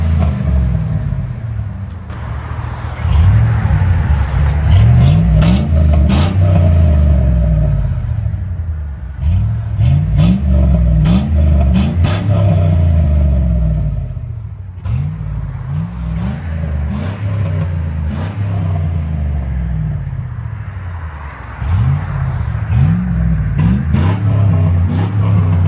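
A 2004 Chevy Silverado with a 5.3L V8 and Black Widow Angry Housewife muffler revs repeatedly, loud and close, its deep exhaust rumble rising and falling in several bursts with short idle gaps between.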